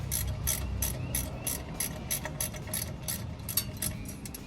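A hand ratchet clicks in quick, steady bursts while loosening small 3/8-inch bolts from the wheel cylinder of a 1980 GMC Jimmy, close and clear with no talk.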